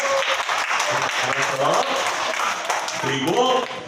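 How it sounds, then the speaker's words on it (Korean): Children and adults at a church children's picnic service in Jeju clap for a visiting child, with steady applause running beneath nearby voices that keep talking over it. "박수 한번 크게 한번 부탁드릴게요"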